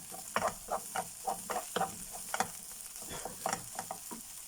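Tomato paste frying in a pan and being stirred, with a soft continuous sizzle and repeated scraping strokes of a utensil in an uneven rhythm, close and fairly quiet.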